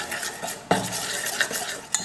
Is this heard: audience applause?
no